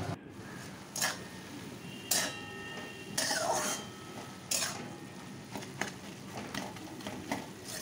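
Poppy seed paste and banana flower stem being stirred in a pan with green chillies, a quiet steady sizzle broken by intermittent louder scraping strokes of the spoon against the pan.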